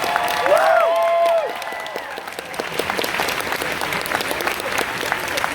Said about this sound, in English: One rule is you have to keep clapping.